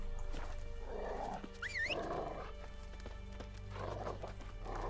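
A horse gallops in the video game The Witcher 3, its hooves drumming a quick, steady clip-clop close by, with a short whinny partway through over a soft background of game music.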